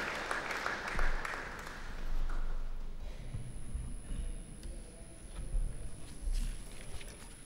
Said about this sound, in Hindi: बस ज़ोरदार तालियां माननीय अध्यक्ष महोदय जी के लिए